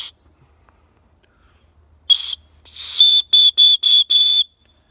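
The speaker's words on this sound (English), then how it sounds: "there's a whistle" After a short puff, a shrill survival whistle from a fire steel scraper sounds in a series of five sharp, evenly spaced blasts, loud and close, then silence.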